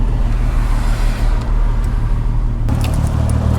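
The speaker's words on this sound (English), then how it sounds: "Oh, my boy is leaving right now in this F80." A BMW M3 F80 sports car with an S55 engine rumbles low and loud as it pulls away, with a steady deep exhaust drone through quad tips and no voices.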